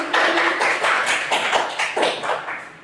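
Students in a secondary vocational school classroom give a short round of clapping, a dense close burst of hand claps that fades out after a few seconds.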